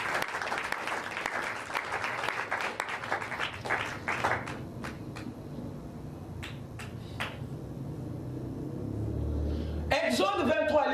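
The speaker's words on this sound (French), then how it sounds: "Acclamez le Seigneur." A church congregation claps and cheers for the Lord in a fast, loud burst of applause that fades into scattered claps, with a preacher's voice and crowd noise over it.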